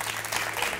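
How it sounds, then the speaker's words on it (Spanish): Short burst of audience applause for a guest on a Chilean TV talk show, a steady clapping wash at moderate level with no break, over a faint low hum. "pido le entreguemos otro gran aplauso porque se lo merece"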